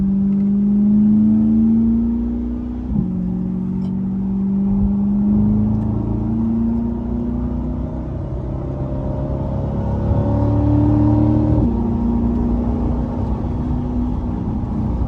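A 2021 Chevrolet Corvette C8 engine revs and pulls hard through the gears, pitch climbing and dropping at each shift, loud and steady throughout.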